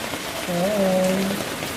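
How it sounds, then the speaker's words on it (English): Heavy rain pours steadily over open countryside near a river, a broad continuous hiss with a voice speaking briefly underneath. "it's raining like crazy"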